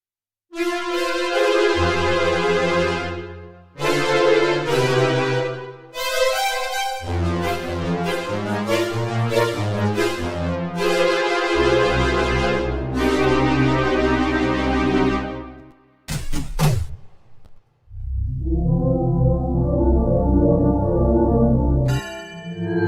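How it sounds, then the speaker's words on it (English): Three stacked DX7 synthesizer engines in Dexed, panned left, right and centre, play a bright FM patch as a run of loud sustained chords and notes separated by short gaps, with a steep falling sweep near the end. "what you hear are three DX7s stuck on each other"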